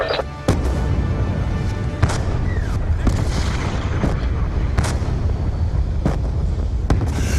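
Mortar and artillery fire in the video game Black Ops 2: a steady roar of battle with sharp booms and cracks at irregular intervals, loud throughout, with faint voices in the mix.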